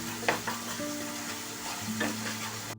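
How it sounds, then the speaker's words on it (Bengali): Paneer masala in a frying pan sizzles quietly and steadily, with a couple of short stirring scrapes and a low hum underneath, heard up close. "একটু নাড়তে থাকো।"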